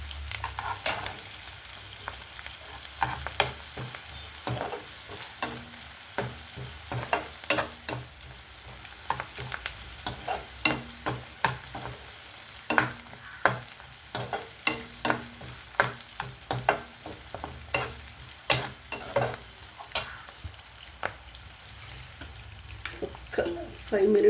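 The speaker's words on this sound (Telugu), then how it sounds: "ఇవి బ్రౌన్ కలర్ వచ్చేదాకా వేగక్కర్లేదండి, కాస్త ఉల్లిపాయలు మగ్గితే చాలు." Onions fry in a pan for a tomato curry, a soft steady sizzle broken by repeated sharp scrapes and clinks of a spoon stirring against the metal, fairly quiet and close.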